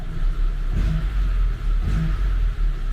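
A ZAZ Tavria car engine revs up twice in quick succession over a steady low idle, close by and loud, with no voices.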